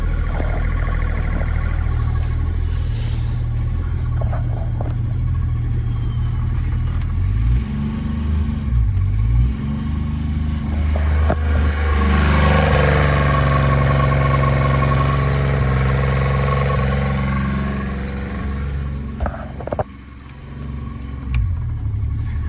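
A Tohatsu MD50B2 50hp outboard motor runs close by, idling unevenly, then revving up and settling back down, with a few clunks along the way.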